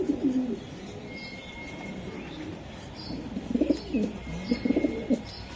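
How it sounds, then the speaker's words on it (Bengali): Racing pigeons from a club loft coo in low, throaty bursts, soft at first and then more frequent and closer toward the end, with faint chirps over a steady background hum. "কবুতর"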